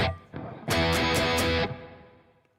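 An electric guitar runs through a reverb effect in the PRIMO iPad app: a couple of light plucks, then a bright strummed chord that rings and fades out into a reverberant tail.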